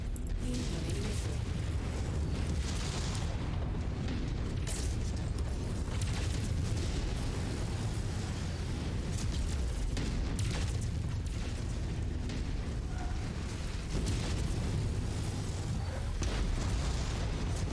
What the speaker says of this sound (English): Incoming missile. Those are gonna tear me up.